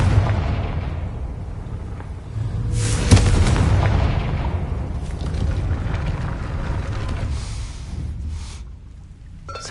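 A Confringo explosion spell in the video game Hogwarts Legacy bursts with a loud boom, then a long, rumbling, crackling roar that slowly fades.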